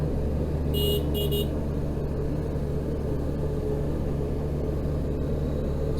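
Two short car horn blasts sound early, close and loud, beside a large truck on a sunny hill road, over a constant low engine and road rumble.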